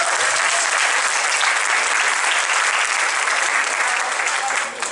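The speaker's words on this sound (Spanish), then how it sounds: "Den un aplauso maravilloso al Señor." Loud, sustained applause from a congregation at a 2015 Advent retreat conference in Miami, with many hands clapping in a thick, continuous roar that dips only briefly near the end.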